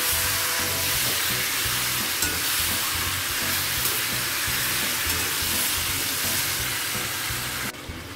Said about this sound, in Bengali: এবার ভালোভাবে কষে নেব।